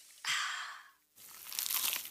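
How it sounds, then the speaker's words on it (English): A crunchy, cheesy pizza slice bitten close up, a loud crisp crunch followed by a brief pause and then a longer crackling, crinkly chewing burst. "Is that the sound of an ooey gooey cheesy crunchy slice of P-I-Z-Z-A?"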